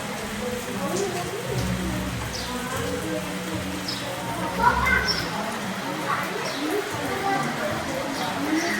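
Rain falls steadily during a monsoon visit to the Gir forest area, a constant patter with scattered drips and brief bird calls, and faint voices murmur underneath.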